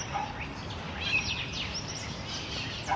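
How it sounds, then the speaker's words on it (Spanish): Birds chirp and call in a green park in Barranco, Lima, beside the sea, faint and somewhat distant, with short high tweets over a steady background hum. "Y desde aquí abajo se pueden escuchar todas las aves de este lindo parque."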